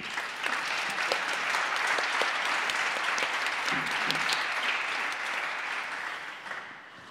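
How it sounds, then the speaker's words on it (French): Sustained audience applause at an international women architects award ceremony in 2019, a thick, even wash of many hands clapping that holds steady before easing off near the end. "vous pouvez les applaudir."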